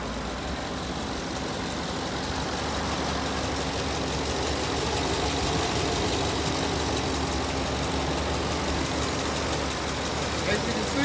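A 2015 Ram 2500 pickup with a 6.4-liter Hemi V8 idles steadily under an open hood, a constant low rumble heard close up without change in pace.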